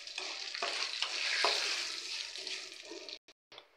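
Tempering seeds fry and sizzle in a hot pan for pulihora, a steady close crackling hiss with stirring scrapes, cutting off abruptly near the end.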